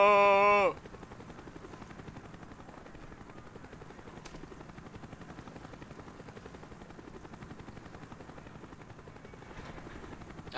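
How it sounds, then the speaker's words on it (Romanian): A helicopter in the video game Call of Duty: Black Ops beats steadily throughout, its rotor chop a fast, even pulse that stays close and loud, after a short burst of tonal game sound at the start. "Dacă a trecut elicopterul."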